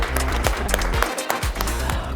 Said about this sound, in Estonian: teeme veel ühe aplausi Tiinale